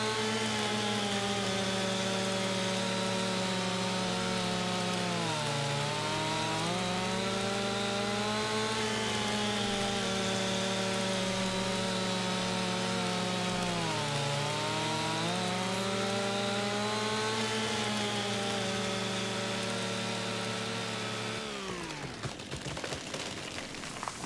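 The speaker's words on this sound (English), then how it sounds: "Okay, the chainsaw's going to start over." A chainsaw in Farming Simulator 25 runs steadily at high revs while cutting an oak tree, its engine pitch dipping twice under load before it shuts off near the end.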